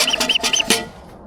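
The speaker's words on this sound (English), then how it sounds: "this is the noise of a teal." A teal call played at a historic duck decoy, a quick series of high, thin squeaky whistles in short rhythmic bursts, close and loud, ending in a faint fading tail.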